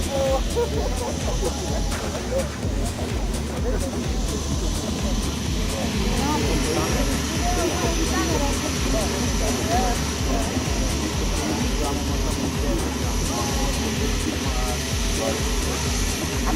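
A light turbine aircraft taking off at a small-aviation airshow in Lesce, 2013; a continuous loud engine roar and whine held throughout, with a voice speaking over it.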